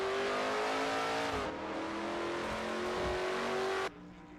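A stock race car at an oval circuit revs hard after struggling to start, its engine droning loudly and steadily before cutting off abruptly, with no voices.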